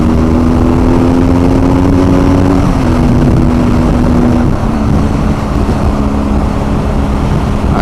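A BMW R1250 GS Adventure motorcycle engine pulls hard through an overtake, a loud, steady drone close by, mixed with heavy wind rush and no talking.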